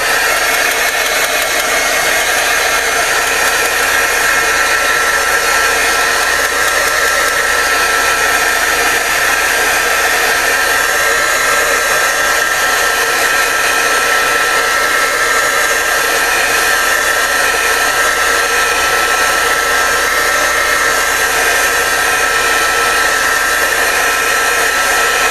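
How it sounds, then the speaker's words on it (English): A hair dryer blows steadily on a painted art project, a loud, continuous close-up whoosh and whine that holds without a break for the full length, with no voices. "Okay, so just gonna dry this off a bit."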